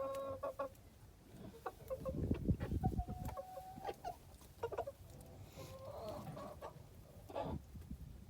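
Ornamental chickens and a rooster cluck and murmur close by in a farmyard, with occasional sharper calls over a low, rustling background.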